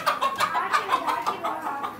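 A rooster clucks repeatedly in quick, rhythmic bursts, close and clear, with no speech.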